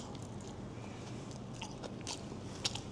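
Close-up chewing of crunchy cabbage served with nasi ganja, soft repeated crunches and wet bites in a quiet room, with a sharper crisp crunch near the end and no talking.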